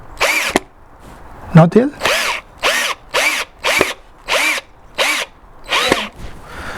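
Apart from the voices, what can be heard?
power drill driving screws into a DIY floor lamp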